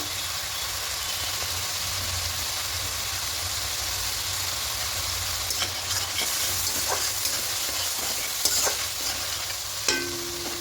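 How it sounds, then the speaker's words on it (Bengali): A cashew, white sesame and green chilli paste with melon seeds is stirred into catla fish masala frying in a pan, giving steady close sizzling with scraping spatula strokes and a few sharper clinks near the end. "দিয়ে খুব ভালো করে মিশিয়ে নেব।"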